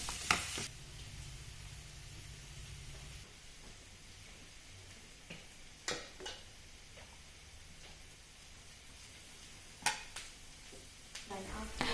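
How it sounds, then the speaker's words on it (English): Green chilies and onion fry in a pan in a home kitchen, a soft, steady sizzle with a few sharp clicks of stirring scattered across it, fairly quiet throughout. "I add in green chilies and onion that I stir until they change color to golden brown"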